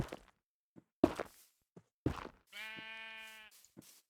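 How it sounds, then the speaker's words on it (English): Sheep bleat in a Minecraft game: one sustained, wavering bleat lasting about a second, with short thumps and clicks before and after. "Go away, sheep."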